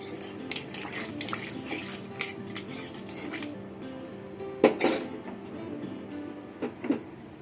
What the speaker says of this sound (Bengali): একটু হাতা দিয়ে ডলে দেবো রাঁধুনিটা